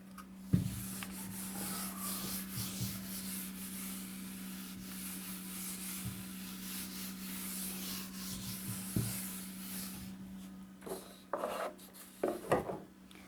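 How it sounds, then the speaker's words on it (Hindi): Chalk or marker rubbing and scribbling on a classroom board during an exam-prep lesson, steady scratchy strokes over a constant hum, with sharper taps and scrapes near the end. "तो इसको रब करके ना ऊपर लिख दे रही हूँ"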